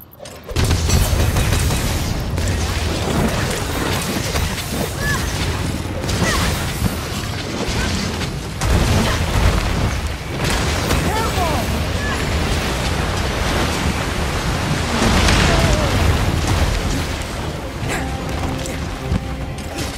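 Explosive bomb blasts and heavy booming rumble from the video game Monster Hunter Rise Sunbreak, loud and dense throughout with repeated bursts, crackling debris and windy roar, no talk.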